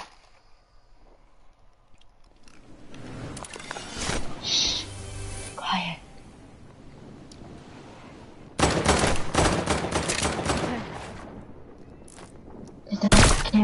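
Booming video game cannon fire erupts in bursts, including a long dense barrage of rapid blasts, with quieter stretches and sharp hits in between.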